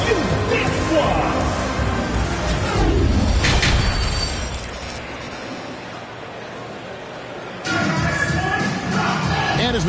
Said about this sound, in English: Fans, please give a big round of applause for your Utah squad.